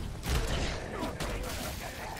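Gunfire in the Evil Dead video game: dense, loud bursts of shots with a brief lull partway through.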